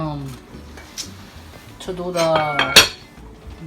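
A metal spoon clinks and scrapes against a cooking pot of Puerto Rican yellow rice and corn, a few bright taps ending in one sharp clank, while a person talks nearby in a home kitchen.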